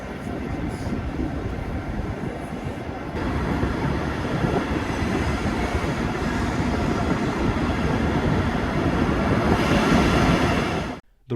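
Aboard the Nightjet night train departing Berlin for Paris, a continuous rumble of rolling wheels and carriage noise grows louder partway through, then cuts off abruptly near the end.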